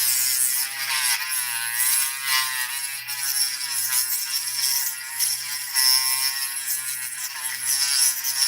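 A Dremel rotary tool runs on an Assa lock with a high, buzzing grind that wavers steadily in pitch, close and fairly loud throughout.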